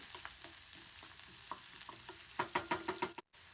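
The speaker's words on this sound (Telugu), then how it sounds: "ఆయిల్ హీట్ అయిన తర్వాత ఒక హాఫ్ స్పూన్ జీరా వేసుకుందాము జీరా కొంచెం వేయిన తర్వాత ఈ ఆనియన్స్ పచ్చిమిర్చిని కూడా ఈ విధంగా వేసేసుకొని ఒకసారి బాగా కలుపుకొని" Chopped onions, green chillies and cumin seeds frying in hot oil give a soft continuous sizzle, with a run of sharp spatula taps and scrapes toward the end as they are stirred, no voices.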